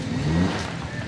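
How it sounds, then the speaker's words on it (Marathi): A car's engine hums steadily close by, with a slight rise and then easing as it slows to pull into a parking spot, all at moderate volume. "गाडी पार्किंग करायसाठी थांबले"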